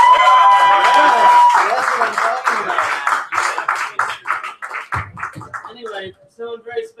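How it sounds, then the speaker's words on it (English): An audience at a poetry reading bursts into loud applause that thins into scattered claps, with a few cheers and talking mixed in. "let's give her another round of applause"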